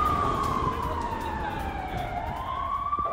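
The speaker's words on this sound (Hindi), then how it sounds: "इस वक्त मैं तेल अवीव में हूं और तेल अवीव में इस वक्त सायरन बजे हैं" Warning sirens wail in Tel Aviv during a red alert, a steady rising and falling tone sounding loud and continuous over the city's background noise.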